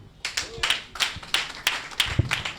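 Audience at a speaking event clapping in a regular rhythm, roughly eight strong claps over a couple of seconds, close and fairly loud, without overlapping talk.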